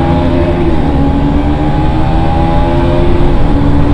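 Motorbikes rev and drone steadily at close range on a busy street during a drag-racing run, the engine tone holding loud and continuous throughout with harmonics shifting slightly.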